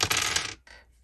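Three dice roll into a tray during a tabletop AD&D game, a short burst of clattering tumbles fading into a few quieter settling clicks, close and alone.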